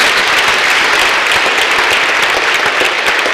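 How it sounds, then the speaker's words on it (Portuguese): Audience clapping at a Portuguese-language event, steady dense applause from many hands throughout, loud and near with no talking over it. "palmas para vocês"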